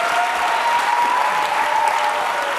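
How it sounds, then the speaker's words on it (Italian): Audience applause after a song at a music award event, a dense, even wash of clapping from a large crowd, sustained without a break, with a held note from a voice or instrument faintly running beneath it. "guarda che applauso, grazie."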